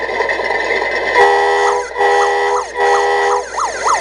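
A siren from the roof speaker of a 1/14 scale RC Mustang Shelby GT500 support vehicle, loud and close, cycling through steady tones and then rising, wailing sweeps with short breaks between bursts.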